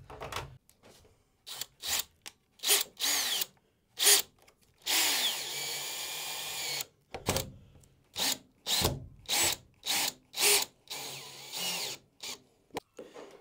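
Power drill driving screws into timber while fitting a campervan window, heard as a series of loud, close whirring bursts of varying length separated by short pauses, with one longer sustained run in the middle.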